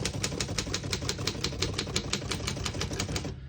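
Someone types briskly on a 1933 Underwood Universal four-bank portable typewriter. The key strikes land as a fast, even run of sharp mechanical clacks, heard close up with no voices, until they stop near the end.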